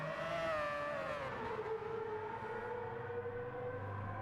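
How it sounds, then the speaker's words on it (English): Racing car in a video game, an LMP1 prototype on Le Sarthe circuit without chicanes, roaring past with a sustained high engine whine whose pitch sweeps downward as it passes, loud and continuous with no talk. "We're going to listen to these absolutely crazy sounding cars as they screech past."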